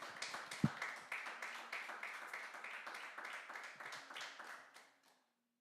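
A church congregation claps in praise during a sermon, a rhythmic run of hand claps at a quiet, distant level that keeps a steady beat and then stops abruptly, leaving near silence.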